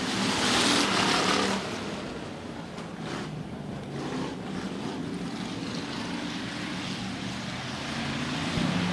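Hobby stock race cars roar past at Stuart Raceway, a loud engine pass up close fading into a sustained rumble of the field circling the track.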